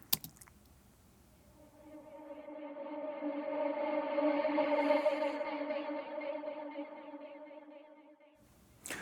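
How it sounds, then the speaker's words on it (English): A reversed quarter-note delay effect in a music mix rises from near silence into a swelling, harmonic smear that peaks midway, then tapers and cuts off sharply, with brief percussive hits at the start and end. "I added a delay, a quarter note, committed it, put it where I wanted the effect to end, and reversed it."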